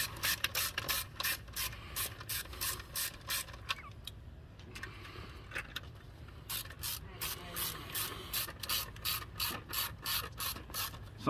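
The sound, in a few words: tightening bolts on Dodge Caravan intake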